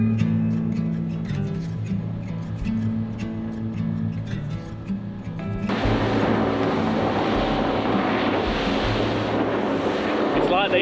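A motorboat motors out to sea toward the Lacepede Islands, its engine humming low and steady while wind buffets the microphone; partway through, a burst of rushing wind and water spray takes over and grows loud.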